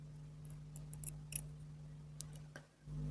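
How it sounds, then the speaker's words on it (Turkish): Small scissors snip thread during needle lace work, giving a few faint, sharp clicks close by over a low steady hum. "Burada ipimi keseceğim."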